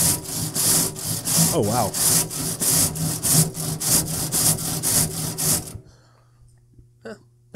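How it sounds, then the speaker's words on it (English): A plastic grill brush scrapes built-up gunk off a grill grate in a loud, steady back-and-forth rhythm of rasping strokes, then stops abruptly; a voice briefly exclaims during the scrubbing and quieter sounds follow. "try to put these to the test and scrape off the little bits that are still there"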